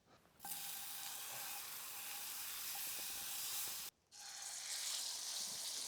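Butter sizzles loudly in a pan during an outdoor cooking stop on a solo motorcycle and hiking trip, a steady broad hiss that cuts out briefly near the end and then resumes.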